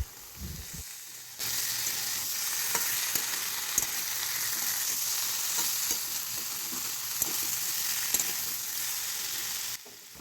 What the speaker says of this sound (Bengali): ভালো করে এবার কষিয়ে নিতে হবে যাতে আদার কাঁচা গন্ধটা চলে যায়